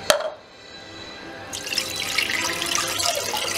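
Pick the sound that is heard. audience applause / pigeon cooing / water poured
water poured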